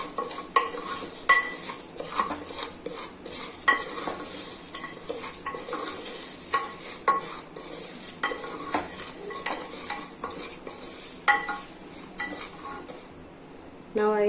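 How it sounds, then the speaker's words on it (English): A spoon scrapes and clinks steadily against a pan as salt and turmeric are stirred into moong dal khichdi, with repeated close metallic taps over a low background hiss and no talking. "Now I will mix it."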